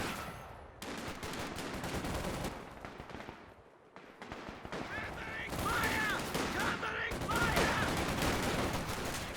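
Machine-gun fire in a Company of Heroes 2 battle: dense, rapid bursts of gunfire and scattered shots run almost continuously, loud and close, with a voice briefly heard beneath the shooting.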